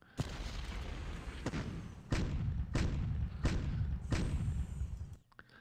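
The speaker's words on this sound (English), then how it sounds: "let's just hit them with some artillery and see what we can do." Artillery fire in the Ardennes wargame Decisive Battles: about six heavy booms land at uneven intervals over a continuous low battle rumble, loud and near, with no talking.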